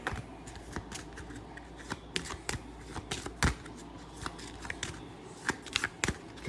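Cards shuffled during a Shadowrun Crossfire board game, a soft, quiet pattering of riffles and taps spread unevenly across the moment, with no voices.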